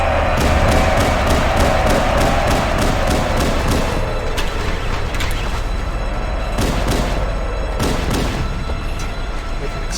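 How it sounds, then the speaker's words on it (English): An explosion in the Halo video game booms loudly at the start, followed by rumbling debris, repeated thudding bursts and a faint rising whine, fairly dense throughout. "Explosion effect"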